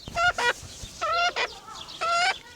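Chickens and a chick cluck and squawk in short nasal bursts, several calls in quick succession, close by with a quiet background.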